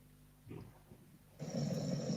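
A man snoring during a late-night gathering, with a breathy rasping burst followed by a louder, sustained rough snore at close range; no one talks.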